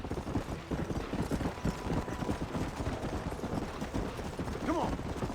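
Horse hooves galloping in Red Dead Redemption, a steady rhythmic clip-clop pounding continuously at moderate volume beneath ambient game sound, with no pauses.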